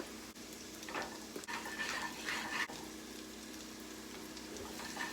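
Onions cooking in a pan for a mushroom sauce base, giving a soft, steady sizzle with a few faint stirring scrapes, quiet and alone.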